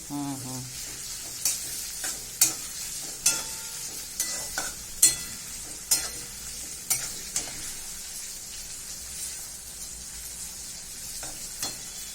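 Onion, garlic and ginger frying in a pan, a steady close sizzle broken by sharp scraping strokes of a spoon roughly every second, with no talking.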